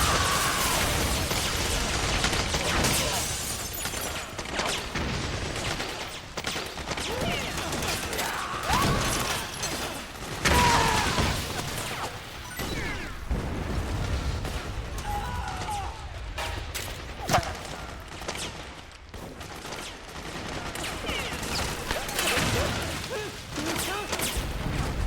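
Video game combat from Metal Gear Solid 4 with scattered rattling gunfire bursts, pops and heavy mechanical rumble from tanks moving around, a busy, fairly quiet battlefield mix running throughout.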